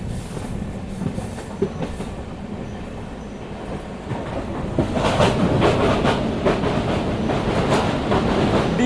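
The Kanchankanya Express, running from Alipurduar Junction to Sealdah, rolls along the rails with a continuous rumble and rhythmic clickety-clack that grows louder and busier midway, with faint wheel squeal heard from on board.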